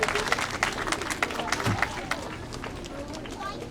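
Applause from a crowd at a school time capsule ceremony honoring the 2016 sixth grade class, steady clapping mixed with chatter and voices, strongest at first and easing off toward the end.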